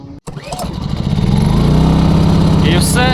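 A GTM 1.8 kW inverter generator starts with a quick pull, then its engine catches and climbs into a loud, steady buzzing run, heard close up with a brief spoken word at the start.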